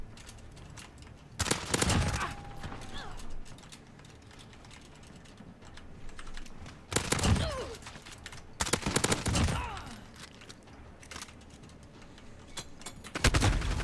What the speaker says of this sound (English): I have a cruise missile. Ready? Watch.